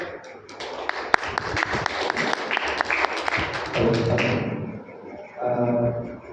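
Loud applause from an audience at a Brahma Kumaris event honoring Somdatt Bhai, dense clapping with sharp individual claps through the first four seconds, then fading into softer, irregular clapping and murmur.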